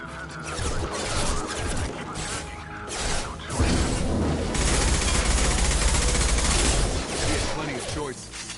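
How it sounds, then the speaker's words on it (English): Heavy impact-shot gunfire in the sci-fi shooter Mass Effect 2, loud and close, with repeated sharp blasts and crashing bursts layered over combat noise. "Firing an impact shot."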